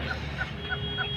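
Small local Nepali ducks at a duck farm give a short run of four evenly spaced quacks over a low, steady background hum.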